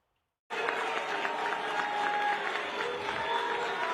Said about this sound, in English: the firefighters and staff members who booed New York Attorney General Letitia James during a promotion ceremony last week